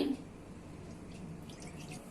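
Water is poured into a heated pan to make rice flour dough for sweet modak dumplings, giving a soft, steady trickling and splashing sound at moderate volume for about two seconds.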